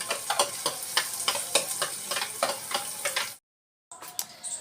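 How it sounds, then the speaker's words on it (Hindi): Chopped onion, garlic and green chilli fry in hot oil with a dense, close sizzle and light rhythmic stirring clicks, cutting out briefly before resuming. "तेल गरम हो गया तो वही प्याज लहसुन हरी मिर्ची चॉप किया हुआ डाल दे रही। फ्राई कर लेंगे अच्छे से"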